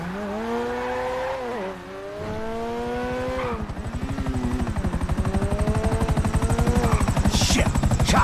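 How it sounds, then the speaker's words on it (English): In Grand Theft Auto V, a helicopter's rotor chop builds into a loud, rapid pulsing thump under shifting engine and vehicle whine, growing steadier and more dominant toward the end. "Chopper!"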